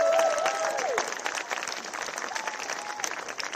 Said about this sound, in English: Would you all give yourself a round of applause for showing up today?